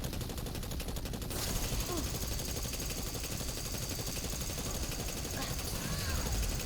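Exotic weapon fire from the video game Destiny pours out as a continuous rapid stream of shots, loud and unbroken from start to finish.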